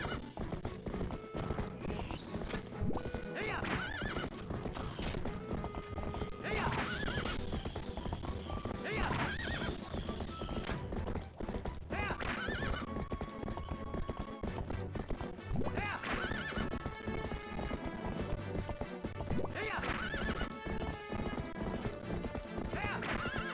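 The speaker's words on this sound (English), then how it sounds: "horse riding simulator." A horse gallops with rapid clip-clop hooves and repeated whinnying neighs in Zelda: Twilight Princess, set against game music, with people talking over it throughout.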